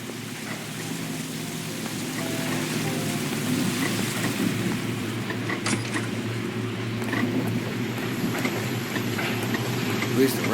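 Rain falling in a 1940s Los Angeles street scene in LA Noire, a soft steady patter on surfaces with a low hum beneath and a few faint taps, heard alone at moderate level.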